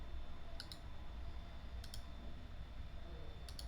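Computer mouse clicks on a desk, three short sharp double clicks spaced about a second and a half apart, close and quiet over a steady low room hum.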